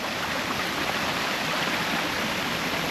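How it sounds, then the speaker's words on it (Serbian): A small hillside stream rushes steadily over stones on a wet, spring-fed slope, a close, loud, unbroken wash of flowing water. "Ima tamo još jedan potok."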